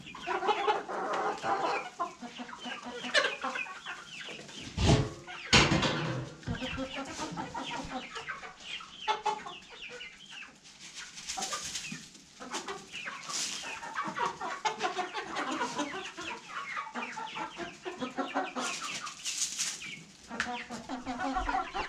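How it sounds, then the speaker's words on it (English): Several chickens cluck steadily and overlap one another throughout, with a few sharper squawks and brief bursts of other noise mixed in. "Okay, chickens, have a good day."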